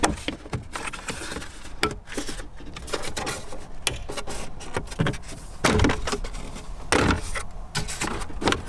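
Plastic interior trim panel on a Toyota Tacoma dash is worked loose by hand, giving close, busy creaking, clicking and rattling with a few sharper pops and snaps throughout, and no talking.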